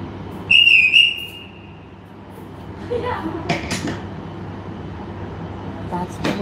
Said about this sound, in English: Whistle I was telling you about.